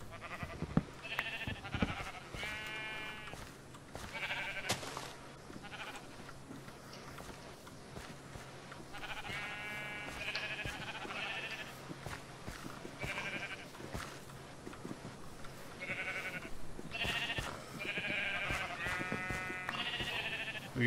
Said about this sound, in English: We got sheep.